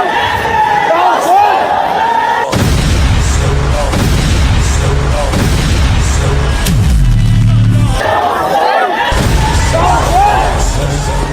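A heavy car-blast boom bursts out over a noisy Muharram crowd, followed by sustained roaring and shouting, with people talking loudly throughout.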